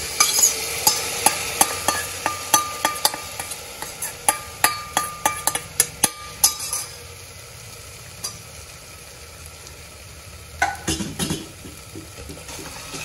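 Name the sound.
soaked jowar grits and dal stirred into sizzling tempering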